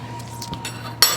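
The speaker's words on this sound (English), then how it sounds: "we're going to lift it out of the pot and bring it over here to the cutting board" Roasted pork loin lifted from a clay roaster onto a cutting board, with faint metallic scraping and light clinks of utensils against the pot, ending in a sharper clink.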